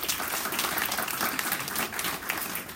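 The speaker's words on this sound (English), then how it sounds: "please welcome with a warm applause, Reverend Dr. Louis Gates." Steady applause from a crowd at a temple lecture, many hands clapping continuously at an even level throughout.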